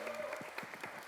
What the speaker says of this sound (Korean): 박찬대 대표님 뜨거운 박수로 만나봅니다